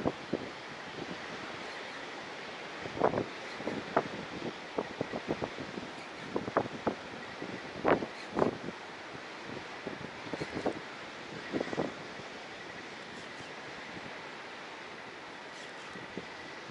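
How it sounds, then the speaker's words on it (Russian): Strong wind blows outdoors on the water during zander drop-shot fishing, with steady gusty rushing across the mic and scattered sharp buffeting bursts throughout. "Ох, ветрило задувает."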